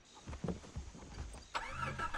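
A vehicle engine in Far Cry 3 cranks and catches about halfway through, then settles into a steady mid-pitched idle after some quieter rustling.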